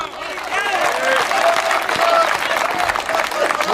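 A comedy show audience in India breaks into loud applause for a Hindi stand-up comedian, with dense clapping and a few whistles and cheers running throughout.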